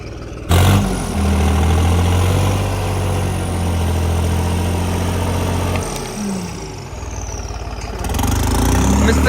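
A Sonalika tractor engine idles loudly nearby with a steady, low, chugging rumble that dips briefly and then swells again toward the end.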